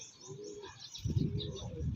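A soft, low bird coo repeats close by in the second half, with faint chirps before it and no talking.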